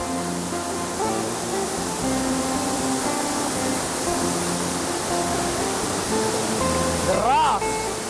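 Swift river current rushes over rocks in a hidden forest at a camping and fishing spot, a steady broadband roar that runs loud and unbroken throughout, with voices talking faintly underneath.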